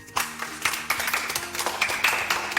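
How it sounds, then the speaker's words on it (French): A group of children clapping in a classroom guessing game, a brisk scattered burst of claps that stays fairly steady and close throughout, with faint chatter underneath. "Applaudissons-le."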